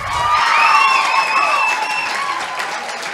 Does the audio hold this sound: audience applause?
yes